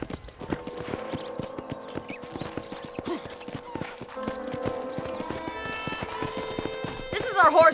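Horses in a ranch corral in the Red Dead Redemption video game, with clip-clopping hooves, snorts and a whinny under ongoing conversation, plus a brighter burst of sound at the end.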